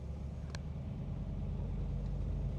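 A 1965 Mustang restomod's 302 cubic inch V8 idles with a deep, steady rumble, low and continuous throughout, with a brief faint click near the start.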